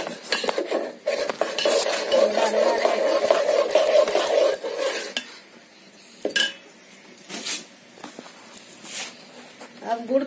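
A spoon stirs a thick jaggery and rice mixture for arsa in a metal pot, scraping and clinking close by, then fainter taps, with a person talking over parts of it.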